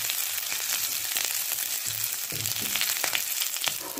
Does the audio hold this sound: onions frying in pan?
yes